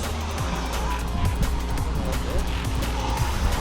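Electric motor of a Traxxas UDR RC truck whining at full throttle, a steady buzzing drone with rising and falling revs, bumps and tire noise over rough ground, fairly close.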